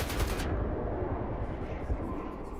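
Rapid automatic gunfire dumps a full magazine in the S.T.A.L.K.E.R. 2 game, a dense, close, continuous rattle of shots that runs unbroken for nearly three seconds.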